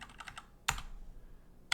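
Someone types code on a computer keyboard in short, quiet bursts: a quick run of keystrokes, then a louder single press and another near the end.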